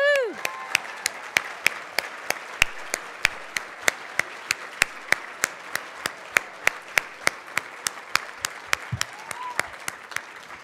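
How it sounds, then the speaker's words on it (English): Sparse, rhythmic hand claps from a conference audience welcoming scholars, sharp distinct claps spaced fairly evenly across the room rather than a dense roar, with faint voices in the background. "we can give them a round of applause"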